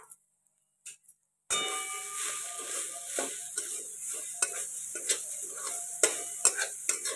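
Two cups of grated coconut go into two spoonfuls of hot ghee and start a steady sizzle, with a spoon stirring and scraping against the pan in repeated clinks, close and alone after a brief quiet start.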